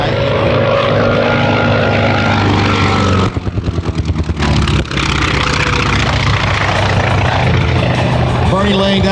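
Loud, sustained propeller-engine roar from a Grumman F4F Wildcat warbird flying an aerobatic airshow routine, with a brief choppy fluttering dip midway as the aircraft passes before the steady drone returns.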